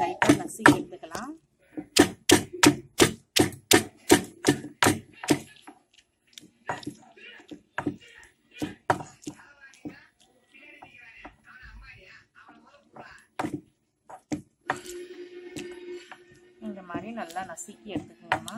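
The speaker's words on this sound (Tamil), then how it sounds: "நாம இந்த மாதிரி வந்து லைட்டா நசுக்கி எடுத்துக்கலாம்." Cut tomatoes being crushed by hand in a home kitchen while making avarakkai tokku, a run of sharp squishing knocks in steady rhythm at first, then scattered squelches, close and clear with a voice talking between them.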